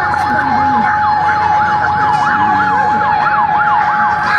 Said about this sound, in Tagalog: Ayun, ayun na po bumbero, dumating na.